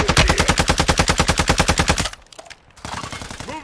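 Automatic gunfire in Call of Duty Warzone 2, a rapid, evenly spaced burst of loud shots for about two seconds, then a quieter pause with scattered distant pops and clatter.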